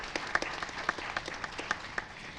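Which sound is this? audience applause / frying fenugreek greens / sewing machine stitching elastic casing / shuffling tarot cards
audience applause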